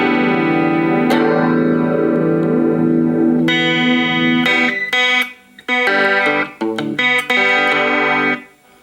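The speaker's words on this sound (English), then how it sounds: "Now this is what chorus flange sounds like." An electric guitar played through the chorus flange effect on a Line 6 Micro Spider solid state amp rings with sustained, swirling chords, then choppier strummed bursts with short gaps, loud and close with no talk.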